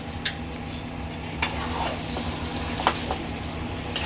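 Mutton masala is stir-fried in a pan for Bengali kosha mutton over a medium flame. The sizzle is steady, and a spoon scrapes and taps the pan every so often.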